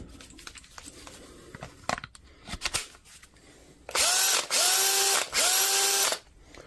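A Milwaukee cordless drill running on a repaired battery whirs in three close, loud bursts, each spinning up with a rising whine, after a few handling clicks.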